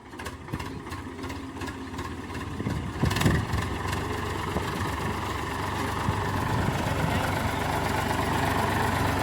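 A tractor engine runs steadily at idle nearby, a low continuous rumble with a brief louder burst early on, while people talk over it.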